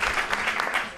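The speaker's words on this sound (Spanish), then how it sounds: "Un aplauso," Audience applause at a Día del Libro (Book Day) ceremony in San Roque, a steady mass of clapping filling the hall for the full second with no voice over it.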